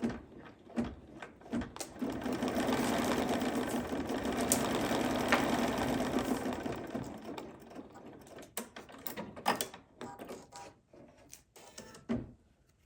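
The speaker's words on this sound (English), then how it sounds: "now I just want to do the placement stitch for our carrot nose" An embroidery machine stitches a placement outline for a carrot nose on a snowman hot pad, giving a sustained whirring run in the middle with ticking, clicking mechanism sounds before and after.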